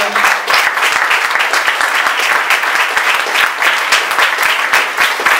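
A church congregation applauds during a sermon, a loud, dense wash of many hands clapping that stays steady throughout, close and filling the room.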